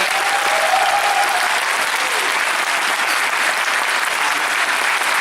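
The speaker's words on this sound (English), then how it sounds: "Please join me, go massive round of applause for our Power Ranger panelists today." Sustained, steady applause from an audience closing a Power Rangers panel at MCM Comic Con in Glasgow, a dense wash of clapping with a faint whistle early on and no talk over it.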